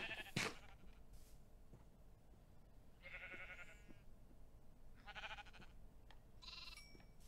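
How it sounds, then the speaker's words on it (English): Sheep bleat in the Minecraft video game, several distinct calls spaced out over a few seconds against a quiet, hissy background, with no speech. "making more sheep"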